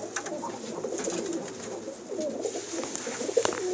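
Pigeons coo in soft, repeated calls from a rooftop loft of high-flyer pigeons, with faint wing flutters and light outdoor background noise around them.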